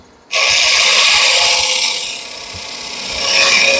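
A skew chisel cuts a tenon in wood turning on a lathe, starting abruptly with a loud, continuous scraping hiss that eases slightly and then swells again, close and alone.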